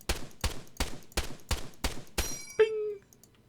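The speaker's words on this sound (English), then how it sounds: "the sound you'll hear when the rounds are complete is the obvious and awesome and very iconic ping" An M14 rifle in the Arma 3 video game fires seven sharp, evenly spaced shots, then a bright metallic ping rings out as the empty clip ejects and fades.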